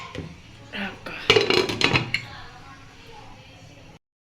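Rice being stirred in a cooking pot for khichuri, with a few scraping, clinking strokes of utensil against metal, loudest in a short burst in the middle, then a fading rustle.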